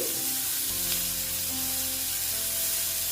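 Grated onion frying in oil for a pointed gourd dish, a steady close sizzle with faint stirring and no voices throughout.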